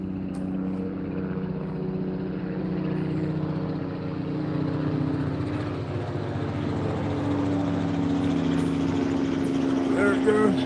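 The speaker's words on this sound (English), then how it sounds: "Here's a helicopter." A helicopter passes overhead on a woodland walk, a steady low engine rumble and rotor drone holding throughout, with a person talking over it.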